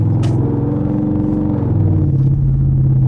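Inside an 800hp straight-piped twin-turbo V8 Audi RS7, a continuous heavy exhaust drone with a layered low rumble that shifts pitch midway as the engine note changes, loud and close throughout.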